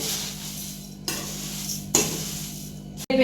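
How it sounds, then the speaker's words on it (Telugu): Ingredients for homemade mixture snack are stirred in a hot pan, with a soft continuous sizzle and a few distinct scraping strokes of a spoon against the pan, close and alone. "కనుక ఇది కొద్దిగా వేడైనంత వరకు మనం అలా కలుపుకోవాలండి"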